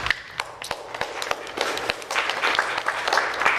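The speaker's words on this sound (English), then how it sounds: "But golf clap to Jacob's team for just still steady killing it" Council meeting attendees give a light golf clap, scattered soft claps and taps tapping out irregularly at first, then thickening into a brief, muted patter of applause.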